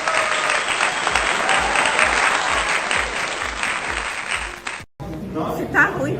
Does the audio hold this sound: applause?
yes